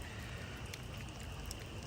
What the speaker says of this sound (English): I'm at the turning point and it's still raining hard.